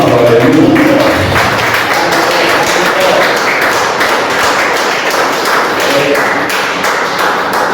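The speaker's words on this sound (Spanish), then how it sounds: "denle un aplauso a Cristo" A church congregation breaks into sustained, loud applause that stays dense and even throughout, with faint voices mixed in.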